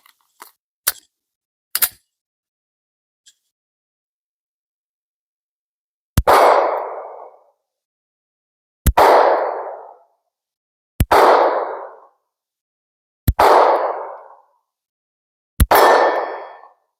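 Shots from a SCCY CPX-2 pistol crack out as sharp, loud reports, with a few quick early shots followed by five evenly spaced blasts, each trailing off in a roughly one-second echo.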